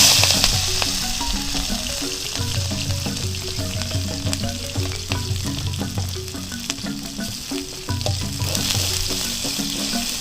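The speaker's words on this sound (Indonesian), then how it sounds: "Berhubung minyaknya udah panas, kita masukin dulu bumbu-bumbunya" Spices fry in hot oil over an improvised outdoor cooking setup, giving a steady close sizzle and crackle with scraping stirring strokes throughout and no voices.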